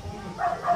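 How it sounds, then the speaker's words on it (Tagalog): A dog barks a few short, muffled yips somewhere off in the background of an indoor room, faint but distinct. "ingay ng aso."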